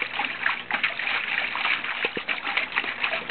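Rinse water splashes and trickles steadily while a bird hide is washed, a close, continuous watery patter with a few louder sloshes.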